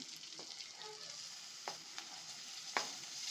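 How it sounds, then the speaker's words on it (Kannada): Chopped tomatoes go into hot garlic ginger paste in a pan for dahi bendi gravy, a faint steady sizzle with a few sharp clinks and stirring scrapes. "ಒಂದೆರಡು ನಾಟಿ ಟಮಾಟೆ ನಾನು ಸಣ್ಣಗೆ ಹಚ್ಕೊಂಡಿದ್ದೀನಿ ಅದು ಹಾಕ್ಕೊಳ್ತಾ ಇದ್ದೀನಿ"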